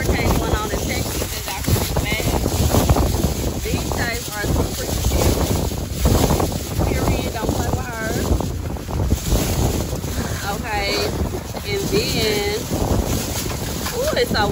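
Strong hurricane wind buffets a microphone outdoors in Texas, a loud, steady roar with gusty rumble running throughout, while someone talks over it.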